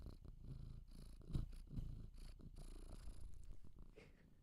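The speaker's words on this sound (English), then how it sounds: "I know you could hear that purring." An old black cat purrs close and soft, a steady rhythmic rumble with breathy pulses, heard alone with no talk.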